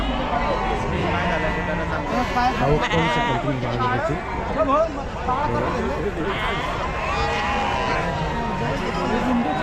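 Sheep bleat repeatedly, many animals calling over one another at a large goat and sheep market in Chakan, Maharashtra, with a crowd murmuring and someone talking throughout.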